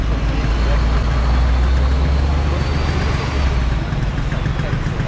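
A Vespa PX two-stroke scooter engine idles close by, a loud steady low rumble with a constant drone and no revving, under a busy outdoor background.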